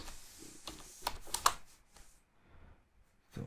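Typing on a computer keyboard, a short run of light, quiet key clicks in an irregular rhythm, clustered early and then trailing off into near silence with one last tap.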